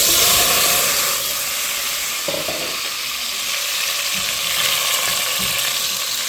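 Shrimp sautéing in a pot for ginisang pechay with pork and shrimp, a loud continuous sizzle and crackle throughout, with a few soft clinks of stirring and no talking.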